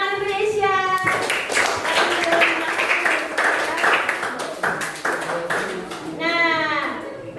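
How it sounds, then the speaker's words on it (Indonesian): A grade 8 class claps together in a rhythmic, patterned sequence of sharp, closely spaced hand claps, with children's voices chanting at the start and end. "Oke, tepuk tangan Indonesia."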